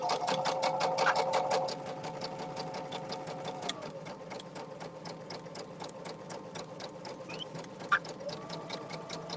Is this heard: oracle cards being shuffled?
no